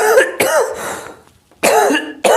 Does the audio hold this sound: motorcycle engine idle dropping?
no